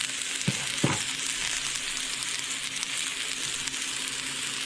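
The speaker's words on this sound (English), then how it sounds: "Now I'm putting in my shallots." Shallots sizzle steadily in extra virgin olive oil in a pan, a close, continuous frying hiss with a couple of brief stirring knocks near the start.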